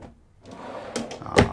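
A drawer slides open in the kitchen of a 2021 Newmar Bay Star 3014 gas motorhome, a short quiet rolling scrape ending in a sharper clack, close by.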